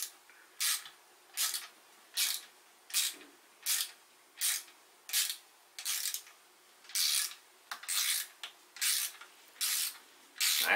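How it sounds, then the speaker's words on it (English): Small ratchet with an Allen bit turning limb bolts on a bow, a regular series of about a dozen short rasping clicks in bursts, close and fairly quiet with brief pauses between strokes. "I just like this little handy dandy ratchet"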